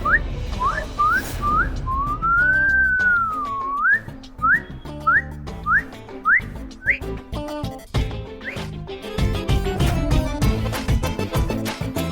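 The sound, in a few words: man whistling at a woman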